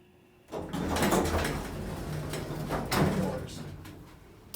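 Doors of a vintage Otis hydraulic elevator in Johnstown, PA slide along for several seconds, a steady rumbling movement with a louder surge near the end, heard close up.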